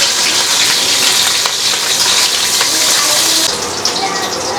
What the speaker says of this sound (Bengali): জিরা বাটা, মরিচ আর হচ্ছে কালো জিরা একটু ভালো করে ভেজে নিল